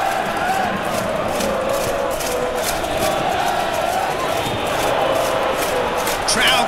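A stadium crowd in PES 2018 roars in a sustained, swelling chant urging a player to shoot, dense and continuous throughout, with a match commentator speaking over it.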